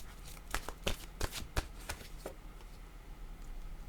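Tarot cards being shuffled and drawn: a run of quick riffling flicks and soft slaps close by, thinning out to a quiet hiss after a couple of seconds.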